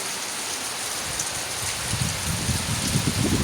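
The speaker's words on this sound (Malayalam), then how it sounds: "മഴ നല്ല തണുത്ത കാറ്റ്." Steady rain falls with cold gusting wind, a soft constant hiss of drops and airy rush, with low rumbling buffets growing slightly toward the end; no one speaks.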